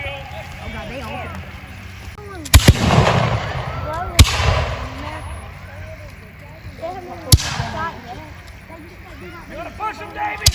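Musket fire at a Revolutionary War reenactment of Huck's Defeat at Historic Brattonsville, South Carolina: three loud, separate outdoor bangs a couple of seconds apart, each with a brief echo, while people shout and talk throughout.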